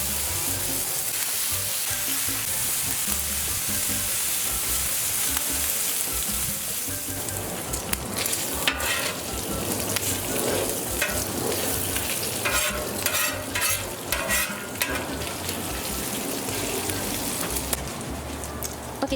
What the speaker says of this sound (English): I'm gonna put the bacon on.